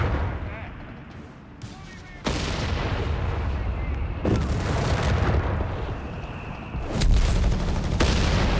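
Artillery bombardment slamming .30 cal machine-gun positions in Company of Heroes 3, with heavy shell impacts landing in several sudden loud bursts separated by rumbling gunfire, and a voice talking underneath throughout.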